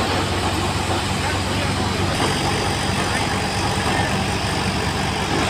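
A new paddy thresher driven by a 575 tractor runs continuously, a loud, dense mechanical roar with steady engine drone and rattling throughout, without letup.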